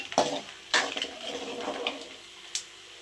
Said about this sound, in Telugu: ఇప్పుడు ఇందులో ఆవాలు, ఉద్దిపప్పు వేయాలి